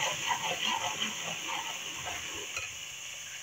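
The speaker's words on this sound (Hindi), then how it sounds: "इसको भी थोड़ी देर फ्राई कर लेते हैं।" Chopped onions with garlic ginger paste frying in a pan, a soft continuous sizzle with gentle stirring scrapes, faint and close, ending in a sharp clink.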